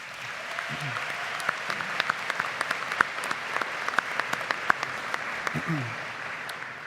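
Graduation commencement crowd at Marist University applauding, a sustained roar of many hands with sharp individual claps popping out and brief speech fragments beneath.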